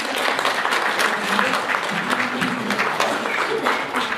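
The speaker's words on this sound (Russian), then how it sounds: "Давайте похлопаем." An audience claps steadily at a presentation on health products, a dense patter of many hands sustained throughout, with faint voices mixed in.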